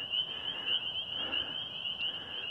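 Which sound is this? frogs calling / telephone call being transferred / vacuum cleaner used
frogs calling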